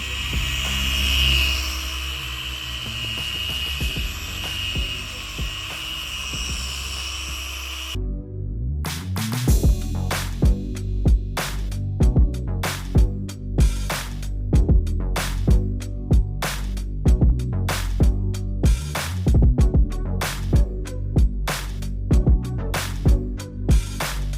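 A car paint polishing machine runs at speed setting 3.5 during a ceramic coating job, giving a steady droning whir with rhythmic thumping pulses under a constant hum after a brief noisier opening stretch.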